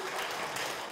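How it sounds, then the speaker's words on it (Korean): Renewed applause from a retreat audience greeting a priest at a family-spirituality day retreat; a short, even burst of many hands clapping together in an indoor hall. "여러분 다시 큰 박수로 우리 신부님 모시겠습니다"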